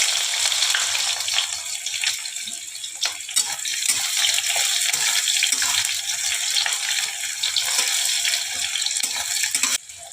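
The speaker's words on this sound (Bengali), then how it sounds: "এবার আমি পেঁয়াজ কুচানো ওগুলো দিয়ে দিলাম।" Chopped onions dropped into a hot pan with whole cumin seeds for a jackfruit kofta curry, giving a steady, close, loud sizzle and crackle of frying with no talking.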